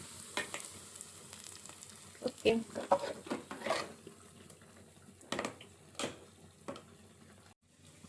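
Hot tempering poured into a greens sambar (massoppu saaru) with the gas turned off, giving sizzling bursts and stirring clatter over a few seconds, with a brief spoken word at the start.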